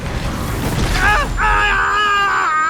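In the horror video game Outlast, a deep rumbling boom swells, followed by metallic groaning and ringing tones that hang over a low roar, loud and close, with indistinct vocal sounds mixed in.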